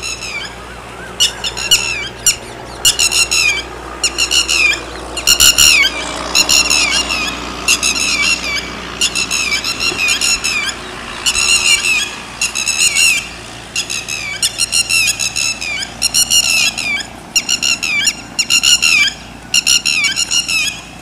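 Red-wattled lapwings (titori) near their nest give repeated loud, harsh calls in rapid bursts, with steady squawking phrases spread across the whole stretch over a faint background.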